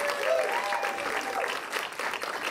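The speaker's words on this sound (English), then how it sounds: "which I think is worth a round of applause as well" Audience applause at an Austin film screening, a steady wash of clapping from a crowd held for a couple of seconds, with a faint voice briefly audible above it.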